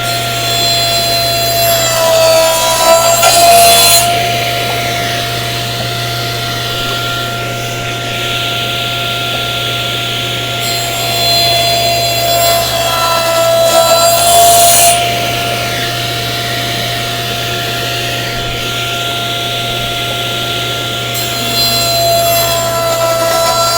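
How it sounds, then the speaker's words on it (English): Table saw with a crosscut sled slicing wood strips at 45 degrees, a steady motor whine with a few rising bursts of louder cutting noise as the blade passes through each piece. "I'm going to take my saw sled and I'm going to cut my 45-degree"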